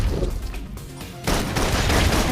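Full suppression gunfire in the video game Love and Deepspace: a loud, dense fusillade of rapid shots that briefly thins, then surges back heavier, with no talking.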